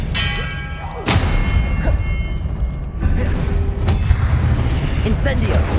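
The Expelliarmus disarming spell is cast in the video game Hogwarts Legacy, with heavy booming thuds and ringing metallic clangs over a loud, dense game soundscape.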